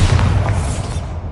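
A Bombarda spell explosion in Hogwarts Legacy, a loud, deep boom that rumbles and slowly fades over a little more than a second.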